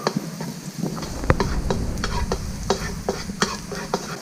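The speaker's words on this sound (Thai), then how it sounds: "ใส่กระเทียมสับลงไป ผัดกระเทียมให้มีกลิ่นหอมก่อนนะครับ ใช้ไฟแรงนะครับ" Chopped garlic sizzles in a pan over high heat while a utensil stirs and scrapes it in quick, irregular clicks over a loud, continuous frying hiss.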